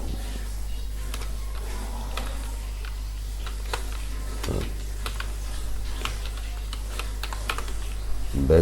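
Steady, close-up typing on a computer keyboard while entering web design code, a stream of quick light key clicks with irregular rhythm and a few heavier strokes, over a low constant background hum.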